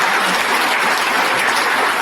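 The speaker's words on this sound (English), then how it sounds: "See, now also they did not clap well." First-year engineering students in a Hyderabad college hall clap together in a loud, dense, even burst that holds steady for about two seconds.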